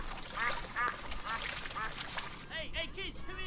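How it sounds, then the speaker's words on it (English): Ducks at a backyard pool quack repeatedly in short nasal bursts, fairly close, with someone talking softly in the background. "Just talking to the ducks."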